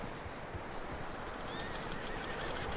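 Horse whinnying and hooves clip-clopping in the Red Dead Redemption 2 video game, loud and continuous over a dense layer of game ambience.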